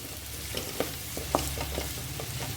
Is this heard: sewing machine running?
no